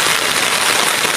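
Heavy rain pouring down in a steady, dense hiss of drops striking surfaces, loud and close and unbroken, with no voices.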